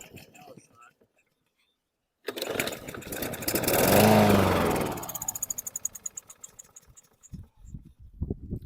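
A Troy-Bilt small engine fires off and runs rough, swelling to a loud uneven roar and then settling into a rapid knocking putter, with faint voices nearby.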